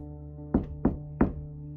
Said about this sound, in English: Then he knocked 3 times, not hard.